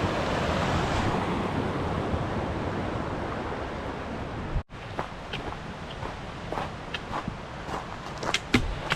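Rushing water of the North Mowich River at a backpacking trail crossing on Mount Rainier, a steady loud roar of surf-like noise with wind buffeting, briefly cut near the middle, then continuing with scattered clicks and knocks.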